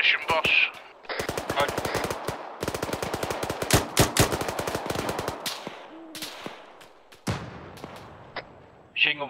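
Automatic and single gunfire in the ArmA 3 video game during an Afghanistan deployment mission, rapid bursts of machine-gun shots with brief gaps and a few isolated cracks, loud and close.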